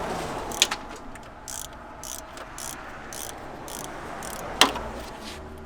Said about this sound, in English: Now we're going to be removing the tensioner bolt. It's a E14 socket and a pretty short extension.